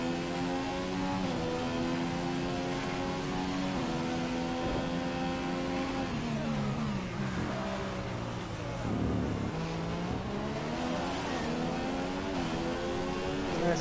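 Formula 1 car engines from the F1 2014 racing game, including a Mercedes, whine continuously in high revving tones that rise and fall as cars shift gears and pass, a dense layered engine roar.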